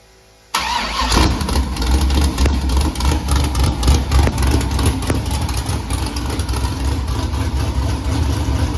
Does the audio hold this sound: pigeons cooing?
no